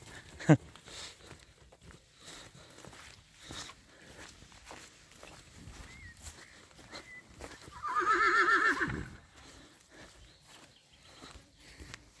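A mare whinnies loudly in a rising, quavering call partway through, over faint hoof steps and quiet background talk.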